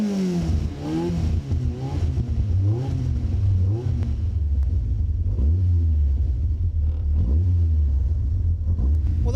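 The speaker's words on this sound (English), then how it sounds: "that's 180 horsepower of Rover K-Series engine" A Caterham Superlight with a 180-horsepower Rover K-Series engine rumbles and revs loudly and close by. The engine note rises and falls through repeated throttle blips, with no talk.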